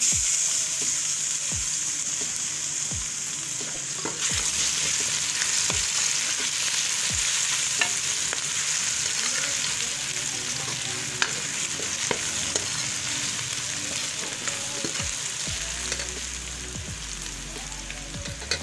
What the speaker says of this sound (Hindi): अब मैं लहसुन अदरक पेस्ट शामिल कर रही हूँ।